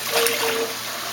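Running water pours steadily over a dog during her bath, a continuous close splashing rinse without talk.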